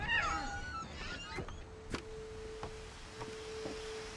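A cat in the video game What Remains of Edith Finch gives a short, clear meow at the start, followed by quiet game ambience with a faint steady tone and a few soft clicks.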